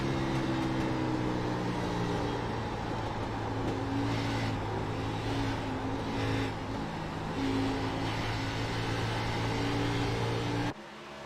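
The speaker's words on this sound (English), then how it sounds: "heard him blipping the throttle quite a bit there" A kart engine in a racing video game roars steadily at high revs with throttle blipping, a dense, constant mechanical drone that cuts off abruptly at the end.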